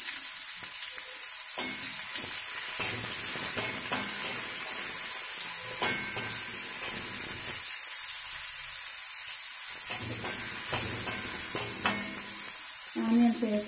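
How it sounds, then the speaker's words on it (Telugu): Chopped onions sizzle and fry in hot tempering oil, a steady broadband hiss with intermittent stirring scrapes and clatters, close and fairly loud with no talk. "పోపు వేగింది, ఇప్పుడు మనం ఆనియన్స్ చిన్న ముక్కలు కోసుకున్నది వేద్దాం."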